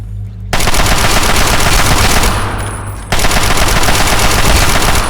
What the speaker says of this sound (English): I'll just use the Chinese assault rifle.